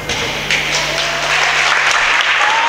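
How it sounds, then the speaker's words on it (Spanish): Spectators at a women's basketball game between Gran Canaria and Vigo applaud steadily in an indoor arena, a dense wash of clapping with a low steady hum underneath, fairly loud and continuous throughout. "Aplaude el público asistente."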